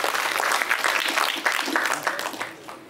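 Audience clapping at a Tamil education and school summit, a dense burst of applause filling the hall that swells and then gradually thins out toward the end.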